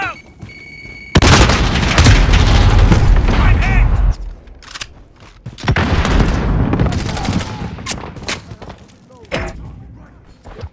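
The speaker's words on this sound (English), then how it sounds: "Grenade out!" A grenade blasts in Call of Duty Modern Warfare gameplay during a realism hardpoint match, a loud, sudden boom followed by a long rumbling tail, with gunfire bursts and voices around it.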